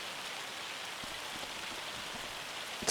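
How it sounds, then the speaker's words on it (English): Hail falls in Germany's Frisian marsh region as a dense, steady hiss of countless small impacts, with occasional sharper taps standing out, constant and unbroken throughout. "you can see we've got hail"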